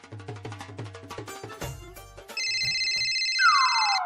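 A telephone ringtone rings repeatedly for several seconds in a Hindi family household, loud and steady with a rising electronic warble near the end, after a stretch of clattering music-like sounds.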